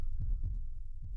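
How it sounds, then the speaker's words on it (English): A heartbeat sound effect plays in an audio drama, with low, muffled thumps in a slow paired rhythm over a faint hum, close and soft. "Heartbeat."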